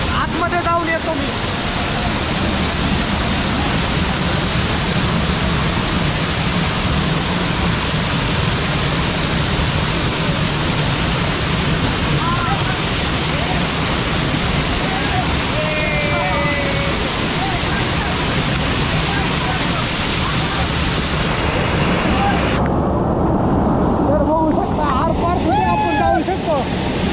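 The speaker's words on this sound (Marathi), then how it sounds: "बघू शकता इथं पाण्याचा प्रवाह किती वाढलेला पावसामुळे" A rain-swollen stream rushes loudly near Gupt Bhimashankar on the Bhorgiri to Bhimashankar route, a dense, steady roar of flowing water with wind buffeting the microphone, and a voice speaks over it near the end.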